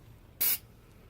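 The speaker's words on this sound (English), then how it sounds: "You're gonna spray it?" A single short burst of Corrosion X anti-corrosion spray hits a car, one sharp aerosol hiss lasting about a fifth of a second in an otherwise quiet setting.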